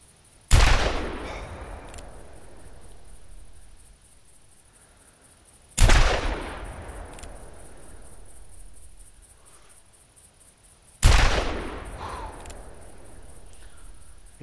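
A .45 Long Colt revolver fires three loud, sharp shots in theHunter Classic, about five seconds apart, each ringing out with a long echoing tail over a faint outdoor insect hum.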